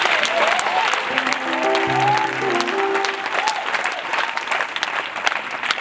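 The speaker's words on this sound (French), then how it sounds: "acclamons le Saint-Esprit" Loud, sustained applause from a church congregation fills the whole stretch, dense and steady, with a few held tonal notes that sound like music rising through the clapping around the middle.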